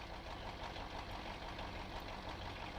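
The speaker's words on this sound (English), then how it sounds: "Why does it sound like there's another truck around?" A truck engine idles steadily in the off-road driving game SpinTires, a continuous low mechanical rumble with no talk over it.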